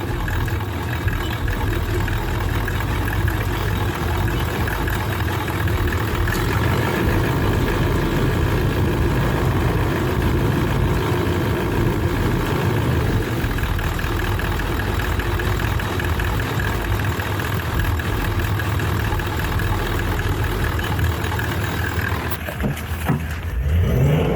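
Car engine idling steadily during a battery charging test, a constant low rumble that runs throughout with no speech.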